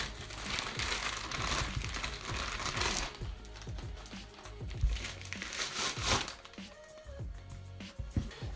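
Packaging around a boxed Feelworld Master 5-inch field monitor is opened close by, with crinkling plastic, rustling and crackling, and soft handling knocks and taps throughout.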